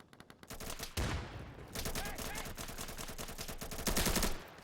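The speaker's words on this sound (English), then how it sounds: "Double shot here." Rapid bursts of gunfire fill a video game match, with loud repeated shots and machine-gun fusillades in quick succession.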